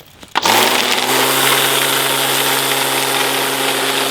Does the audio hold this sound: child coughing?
no